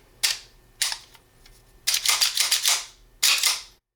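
Les Baer Custom Carry 1911 pistol in blued steel being broken open, a series of crisp metallic clacks and a short rattling burst of slide and part clicks, close up with no speech.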